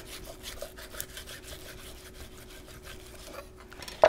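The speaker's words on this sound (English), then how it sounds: "So now you wiggle the skin and also your knife back and forth." A knife is wiggled back and forth between a salmon fillet and its skin, giving quiet rhythmic scraping strokes, followed by a short sharp click at the very end.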